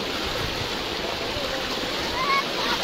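Heavy floodwater from monsoon rain rushing over a road in Dhangadhi, Nepal, a steady broadband roar of flowing water that stays close and constant throughout, with no talk.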